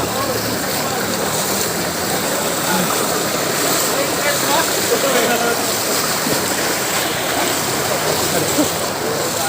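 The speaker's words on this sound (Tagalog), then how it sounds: "Lakas ng tubig no, grabe." Strong floodwater rushing after Typhoon Dante in Montalban, a loud, constant broadband roar of fast-moving water that stays steady and close throughout.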